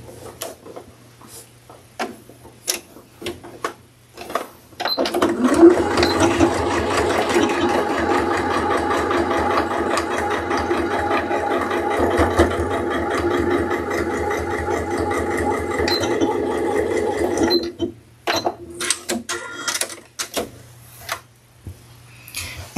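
A sewing machine stitches a seam across the base of a drawstring purse, running steadily and loudly for about twelve seconds after a few clicks, then stopping with handling knocks.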